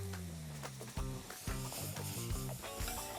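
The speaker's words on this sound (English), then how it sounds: "we're gonna cook these together in a little butter in the saucepan until they're nice and caramelized" Onion and fennel cooking in butter in a saucepan, a steady close sizzle with a few stirring scrapes, while music plays over it.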